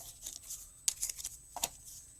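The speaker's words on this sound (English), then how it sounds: "And I'm going to cut this in half." Card stock for a birthday card is cut in half, giving a few soft, brisk snips and slicing swishes spread unevenly across a quiet moment, close by, with no speech.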